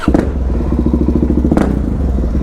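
A Suzuki DR-Z400S motorcycle engine idles loud and close beneath a gas station overhang, a steady thumping single-cylinder pulse, rising into a sharp revving burst before settling back to a rapid even chug.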